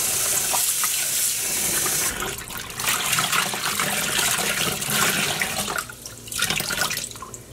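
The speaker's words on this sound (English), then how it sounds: "The water has cleared completely, so now we can wash our yarn." Running water gushes steadily from a tap as dyed yarn is washed beneath it, the splashing shifting and surging as the yarn is moved through the stream, with no talking.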